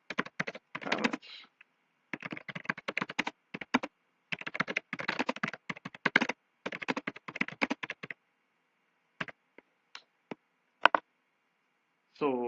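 Work order comments being typed on a computer keyboard, bursts of rapid close key clicks separated by pauses, with a few single keystrokes near the end.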